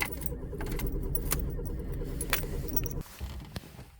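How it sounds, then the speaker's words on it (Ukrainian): A VW Polo 1.4 cranks and starts from cold, with a loud, rough churning engine that cuts down sharply after about three seconds into a quieter idle. Keys rattle near the start. "Ось так у нас заводиться на холодну."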